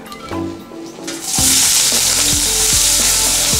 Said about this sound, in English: While the onion is sauteing, I'm going to add a little bit of garlic.